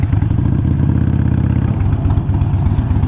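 Motorcycle engine idling at a gas station, a steady close low rumble with a fast pulsing beat that holds throughout, with no talking.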